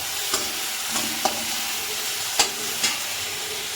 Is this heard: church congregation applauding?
no